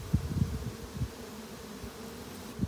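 Honey bees buzz faintly inside a hive as a male drone bee emerges from its cell, with a low hum and a few short, slightly louder bursts.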